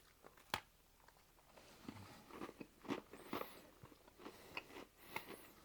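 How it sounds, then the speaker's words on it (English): Quiet, close crunching as a crisp chocolate chip cookie is bitten and chewed, with small cracks and scattered snaps over a few seconds. "It's a crunchy cookie."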